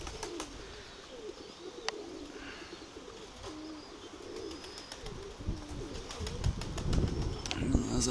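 Pigeons coo in low, repeated throaty rolls close by, mixed with sharp clicks and brief wing flaps, growing busier and louder toward the end.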